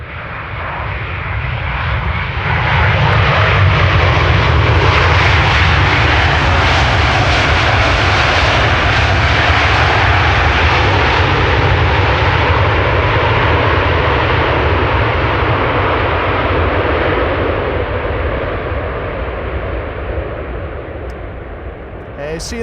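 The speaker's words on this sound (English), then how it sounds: "Delta Airlines Flight 74 will land next, arriving from Atlanta, Georgia." A Delta Airlines Airbus A330neo from Atlanta lands on Schiphol's Polderbaan runway 18R, its loud, sustained jet roar swelling quickly and holding steady for about twenty seconds before easing slightly, with a brief rattle at the very end.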